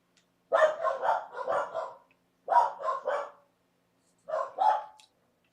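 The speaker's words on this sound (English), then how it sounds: "That's what two corgis sound like, by the way, in case you ever wondered what that sounds like." Two corgis barking in three bursts of rapid, sharp yaps, fairly close and loud, with short silent gaps between the volleys and no talking.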